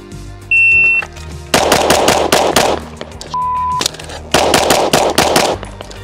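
A handgun fires at a taped target in two rapid strings of sharp, loud shots with a short pause for a reload between them, and a shot-timer beep sounds before each string.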